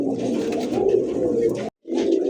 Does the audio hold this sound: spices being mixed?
no